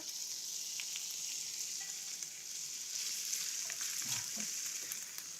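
Cubes of pancetta frying in a little oil, a faint steady sizzle with a few light stirring clinks toward the end, heard up close with no talking.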